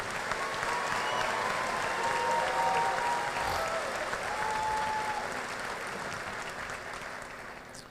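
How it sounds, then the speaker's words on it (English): Sustained applause from a large audience at a high school senior class graduation ceremony, a dense, steady roar of many hands clapping that carries on for the whole stretch and eases slightly toward the end. "Let us all give this young man a round of applause one more time"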